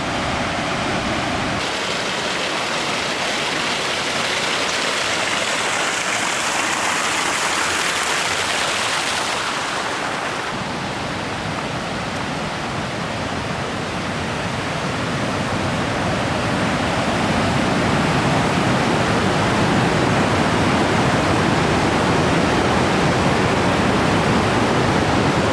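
Punch Bowl Falls in Oregon roars as a continuous, loud rush of falling water. The dense wash of noise holds steady throughout, swelling slightly toward the end.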